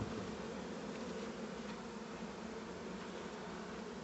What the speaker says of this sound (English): they're fanning, see they're fanning their wings to let everybody know this is home right here